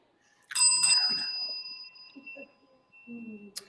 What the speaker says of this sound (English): Have you been hearing me ring the bell?